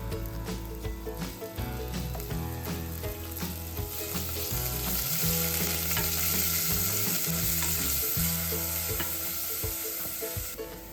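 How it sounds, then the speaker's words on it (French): Sliced onions fry in a splash of oil in a pan, a dense continuous sizzle with some stirring, loud and close, no talk. "je fais revenir dans un filet d'huile les émincés d'oignons quelques minutes."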